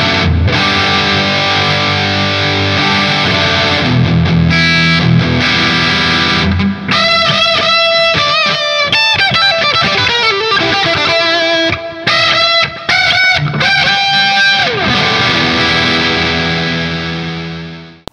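A budget Les Paul-style electric guitar on its bridge pickup plays heavily distorted chords and riffs, loud and close, with bursts of fast picking and sustained notes that ring out before fading at the end.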